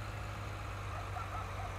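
A tractor engine idles in the farming video game Farming Simulator 19, a steady low rumble holding at one level throughout, with no talking over it.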